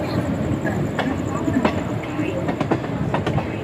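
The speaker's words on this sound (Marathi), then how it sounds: "आपली होस्पेट एक्सप्रेस कर्जत स्टेशनवरती अरायवल होत आहे" Hospet superfast express train pulling into Karjat station: a steady, loud rail rumble with scattered sharp clacks and clicks from the wheels, continuous throughout with no talking.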